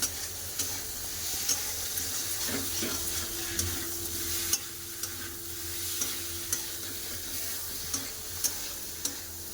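Shrimp frying in a pan with salt and spices, fried potatoes alongside, gives a steady crackling sizzle under repeated sharp scrapes and taps of a stirring spoon against the pan.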